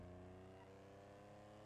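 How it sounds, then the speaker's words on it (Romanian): A steady car engine drone in the video game GTA 5 (FiveM), with a low harmonic hum like a car idling or cruising, continuous and fairly faint throughout. "Am crezut că așa se aude mașină."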